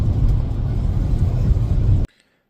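Steady, loud car road noise from inside a vehicle on a winter family trip, a continuous low rumble that cuts off abruptly near the end, leaving near silence.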